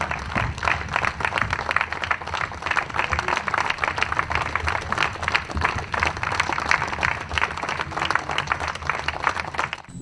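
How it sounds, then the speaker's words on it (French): Steady audience applause for the founding president of the Défi Congo political party, dense overlapping clapping filling the hall without a break for the full stretch. "applaudissons pour Papa Diangenda, le président fondateur du parti Défi Congo"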